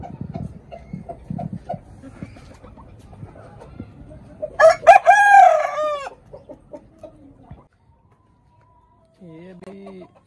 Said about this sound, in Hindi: इनमें से 4 मुर्गियाँ हैं और 2 मुर्गे